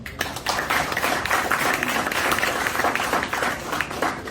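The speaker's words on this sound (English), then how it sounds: "Clap now." Audience at a Lagos trading seminar breaks into steady clapping, a dense, even wash of many hands that rises quickly and holds without talk.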